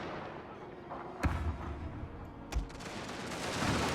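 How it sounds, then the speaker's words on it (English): Field cannon artillery in a Prussia strategy video game fires two distant booms a little over a second apart, both muffled over a low rumbling background. "Got field cannon coming in."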